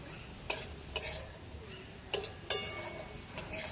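Spices being stirred into cabbage in a frying pan, a spatula scraping and clinking against the metal in a few short, separate strokes over a faint background, no talking.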